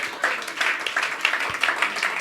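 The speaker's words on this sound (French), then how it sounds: "Au nom de Jésus, on peut applaudir à la gloire de Dieu." Church congregation clapping during a worship service, a steady, moderately faint patter of many hands continuing throughout.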